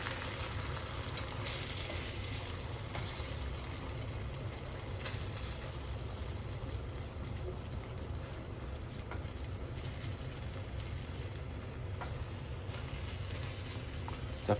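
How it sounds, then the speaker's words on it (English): Eggs being stirred into a frying pan of oyakodon in a home kitchen in Japan: a steady, close sizzle runs throughout, with faint scraping and stirring and no talking. "Let's go ahead and add the eggs now. And mix it through."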